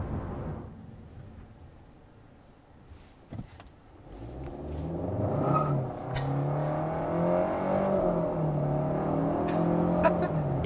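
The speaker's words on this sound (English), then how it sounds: "if you actually put your foot down from a stop, it definitely is enough torque to spin the front wheels a little bit" A 2023 Kia K5 sedan accelerates hard from a stop, its engine note rising steadily in pitch from inside the cabin after a quiet start, moderately loud with faint other noises.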